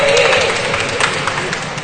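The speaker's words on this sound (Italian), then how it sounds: "Applausi a scena aperta." Basketball crowd at a Serie B/C game applauding, a dense, loud wash of clapping and cheering that runs continuously through the clip with voices mixed in.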